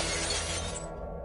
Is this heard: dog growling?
no